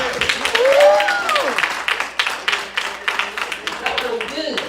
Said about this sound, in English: You heard another round of applause.